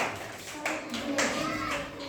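Children clap their hands together in a classroom, a short scattered burst of quick claps at moderate distance, with some chatter underneath.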